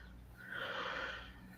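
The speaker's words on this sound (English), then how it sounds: "I heard that yawn." A person yawning, one drawn-out breathy exhale that swells and fades over about a second, faint and close, over low background hum.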